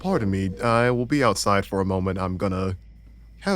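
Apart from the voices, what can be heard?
No everyday noises stand out.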